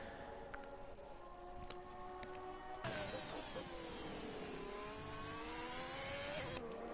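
A Ferrari race car in a racing video game runs a hot lap around the Bahrain circuit, its engine whining steadily and rising through the gears, then swelling louder and brighter midway.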